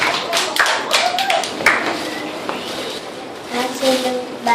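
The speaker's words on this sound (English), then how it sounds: "A big round of applause" Parents and guests at a kindergarten culminating program clap in a scattered round of applause, uneven claps mixed with taps and thumps and voices in the background.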